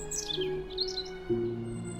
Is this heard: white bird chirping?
yes